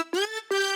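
Two bright synth lead notes from the Silent sample pack, each with a sharp attack and buzzy harmonic tone, played close in a short clean phrase.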